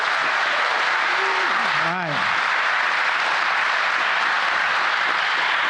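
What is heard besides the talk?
audience applause for engine builder teams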